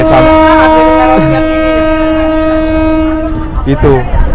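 Bukit Serelo passenger train pulling out of Kertapati station, a loud sustained two-tone horn blast from the locomotive lasting several seconds, with rumbling rail noise underneath and brief voices near the end.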